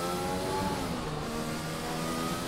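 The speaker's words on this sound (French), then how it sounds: "le son des voitures est beaucoup plus puissant" Formula 1 race car engines from F1 2020 drone loudly and steadily on a lap out of the pits, a dense continuous roar with layered harmonic whine and no breaks.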